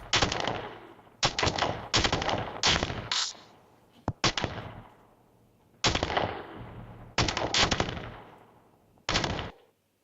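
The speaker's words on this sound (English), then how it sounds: "Let me play the gun fires multiple times." An AI-generated gun fires in several clusters of sharp, loud shots, some in rapid bursts and others single, each with a short decaying tail and quiet gaps between the volleys.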